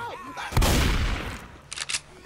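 A sudden loud burst of gunfire in the zombie shooter Left 4 Dead, decaying over about a second, then a few sharper follow-up shots, with game voices faintly around it.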